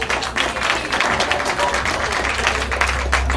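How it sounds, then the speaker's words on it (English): Audience applause for a pair of psychic performers at a live stage show, a steady, dense wash of clapping that fills the room throughout. "Give them both a huge round of applause."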